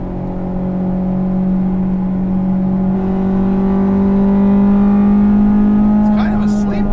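The all-motor 1998 Acura Integra GSR engine drones in a steady, rising rev, loud and up close. It climbs slowly in pitch over several seconds, and a brief sharper noise comes near the end.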